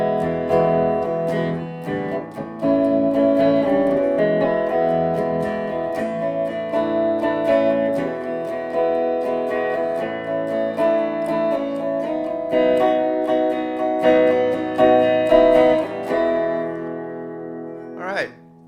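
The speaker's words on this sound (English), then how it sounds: "That's the clean channel with, like I said, a little tiny bit of reverb on it." Firefly electric guitar played through an amp on the clean channel with a touch of reverb, sustained chords and ringing notes with a pitch bend near the end.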